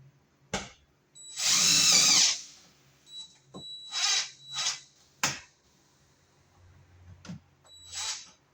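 A cordless power drill driving screws to fasten an electrical box to a wall, with a long loud whir followed by several shorter bursts and clicks, close up.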